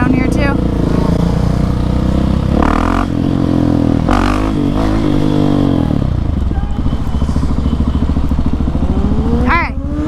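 A loud motorcycle revs hard nearby, its engine surging and dropping in repeated throttle blips with some clatter, while people talk over it.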